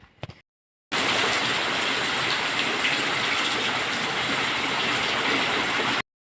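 Rain falling on a dark afternoon, a continuous, even rushing hiss that starts after a short quiet moment and holds steady until it cuts off.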